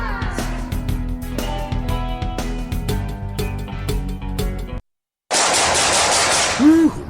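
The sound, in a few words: gunfire sound effect in a radio ad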